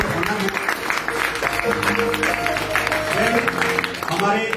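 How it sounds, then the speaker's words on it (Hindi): An audience at an IMC business event in India breaks into sustained applause, a steady roar of clapping that continues with tonal sounds and voices mixed in. "एक बार जबरदस्त ताली चाहूंगा"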